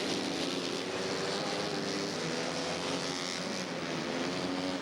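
Kawasaki racing motorcycles at the AMA TT National in Springfield, a continuous loud engine roar sweeping past the start-finish line, steady throughout with no voices.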